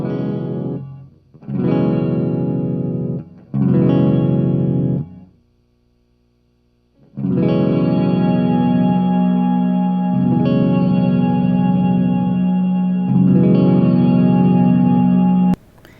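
Electric guitar through a JOYO R-14 reverb pedal with the decay adjusted: three short strummed chords with clipped tails, a pause, then a long ringing chord held with reverb wash and a re-strum near the end.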